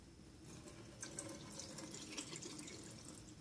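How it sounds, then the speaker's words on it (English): Liquid from chrome stripping is poured into a sink drain, a steady, close splashing rush of water that runs without a break and with no voices. "But I'll just pour it down the drain."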